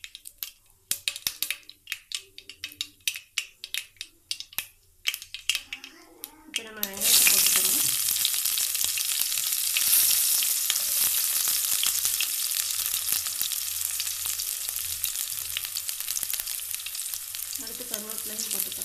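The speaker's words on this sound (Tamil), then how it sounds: "பாருங்கள் கடுகு வெடிக்குது." Light clicks and taps give way to a loud, continuous sizzle and crackle of mustard seeds spluttering in hot oil, close up and steady.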